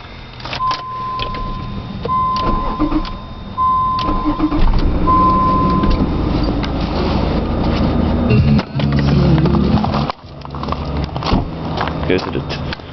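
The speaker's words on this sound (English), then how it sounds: "Let's start the Mazda 626." A Mazda 626 cold starts after a key-turn crank, the engine catching and settling into a loud, steady idle close by, with a few brief mechanical clunks.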